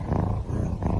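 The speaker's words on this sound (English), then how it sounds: "Still just purring away." A cat purrs in a close, loud, steady rumble that swells and dips slightly over its short length, heard alone without voices.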